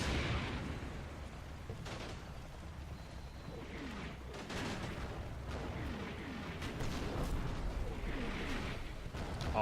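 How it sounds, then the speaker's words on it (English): Artillery shells land nearby in Combat Mission: Battle for Normandy, a series of heavy thuds and crackling blasts with descending whistles and rumbling over a constant battlefield din. "Artillery hitting my left"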